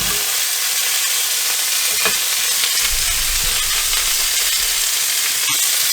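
Beef tips in red wine sauce sizzle steadily in a hot pan, a loud, constant frying hiss with scattered scraping and stirring knocks as the pieces are moved.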